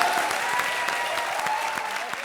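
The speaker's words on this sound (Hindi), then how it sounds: "तालियां बाबा के लिए।" Studio audience applause on a Hindi comedy show, steady dense clapping filling the space at close range, with a faint hum of voices underneath.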